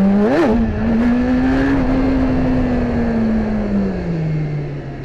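A BMW S1000RR sport motorcycle accelerates hard in first gear on a backroad, its engine note rising in a quick rev then holding a loud, steady drone that slowly drops in pitch, close and continuous with wind roar.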